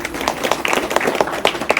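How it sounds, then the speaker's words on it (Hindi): An audience claps on request, a dense burst of many hands close by, steady and fairly loud for the full stretch with no talk over it. "वाह, ताली बजाइए भैया"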